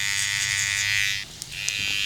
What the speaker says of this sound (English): Let me see the trimmer.